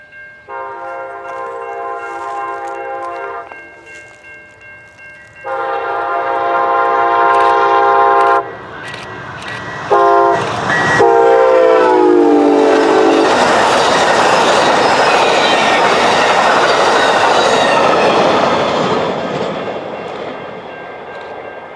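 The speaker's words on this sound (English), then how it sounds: "Get ready for more Amtrak at speed." An Amtrak passenger train on the CN Centralia Subdivision in southern Illinois sounds several long, loud horn blasts, then roars past close by at speed with a rushing, rattling wash of wheel and wind noise that slowly fades.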